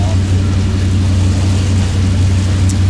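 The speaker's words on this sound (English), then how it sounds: "So now we're going back on one engine," A boat motors along on a single engine fitted with a bent propeller, producing a loud, steady low drone with a throbbing hum and wind and water noise, continuous and close.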